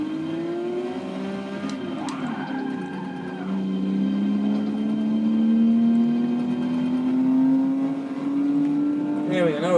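A Porsche race car in Forza 6 accelerates, its engine note climbing steadily in pitch as it pulls away, loud and close with a short gear change near the end.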